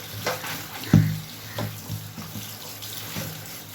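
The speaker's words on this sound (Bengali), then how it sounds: "একবারে বেসিনে ফেলে ধুয়ে নিচ্ছি" Leafy greens are washed under a running tap in a sink basin: a steady close stream of water with a few soft splashes and knocks, and no talk.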